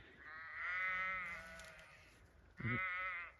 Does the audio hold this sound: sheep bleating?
yes